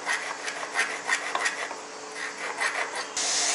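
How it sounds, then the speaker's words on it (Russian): A jeweler works on a gold ring with a small tool, making a series of light rhythmic rubbing and rasping strokes, close and fairly quiet, ending with a brief sharper scrape. "Сейчас чистит кольцо, чтобы было ровное."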